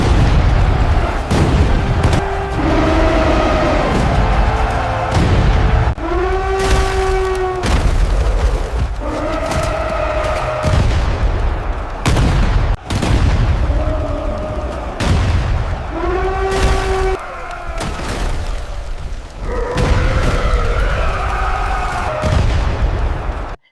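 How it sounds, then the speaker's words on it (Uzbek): Cannon and artillery fire at the battle of Panipat booms again and again, loud and close, the heavy blasts mixed with tonal cries and a constant dense din. "bir zumda Boburning to'plari gumburladi"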